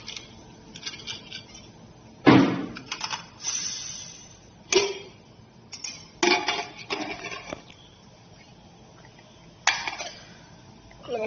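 A pressure cooker lid opened after cooking beef, heard as sharp metallic clanks and clicks with a few clattering handling noises spaced across the clip, up close in a quiet kitchen.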